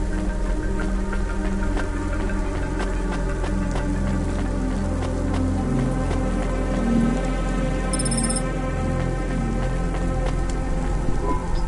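Steady rainfall in the video game Cloudpunk on PS5 Pro, a dense continuous hiss and patter with low rumbling underneath, holding constant with no talk.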